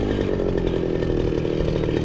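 A grass cutter's small engine runs on a farm, a loud, steady buzzing drone held close for the whole stretch with no talking over it.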